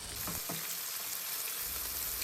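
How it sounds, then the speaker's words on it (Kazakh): Meat frying in hot oil in a pan, a steady, close hiss and crackle of sizzling that continues throughout without pause, with a few faint stirring knocks early on. "Ең алдымен етімізді салып, жақсылап қып-қызыл етіп қуырамыз."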